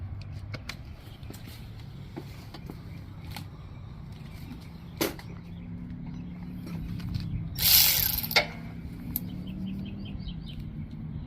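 Pliers clicking and scraping against a metal clamp on a Troy-Bilt Mustang XP zero-turn mower, with a few sharp ticks and a brief louder rattling burst near the end, heard close over steady outdoor background noise.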